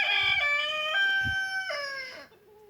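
A single rooster crows loudly and close by, one long drawn-out cock-a-doodle-doo that trails off at the end.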